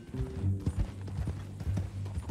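Horse hooves clip-clop in Red Dead Redemption 2, a steady run of close hoofbeats over a low ambient drone, with no voices.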